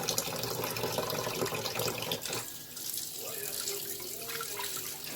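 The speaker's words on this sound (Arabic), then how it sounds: "انا مطلعه الميه رفيعه شويه" Tap water runs at a sink in a thin stream while delicate mullet fish roe is washed gently by hand. A steady close rush fills the first couple of seconds, then it drops to a softer, thinner trickle.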